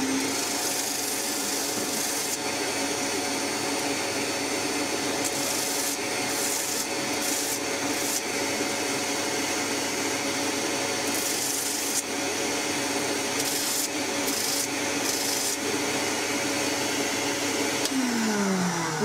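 A knife handle is rubbed flat against abrasive held by hand, giving a steady, continuous scraping rasp for nearly twenty seconds with brief brighter bursts of friction, close and alone without talk.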